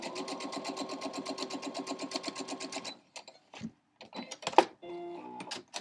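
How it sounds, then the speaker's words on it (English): A sewing machine stitches a quilt block along a drawn line in a steady, rapid run of close stitches for about three seconds, then stops, followed by scattered handling clicks and brief rustles. "Sew directly on that line."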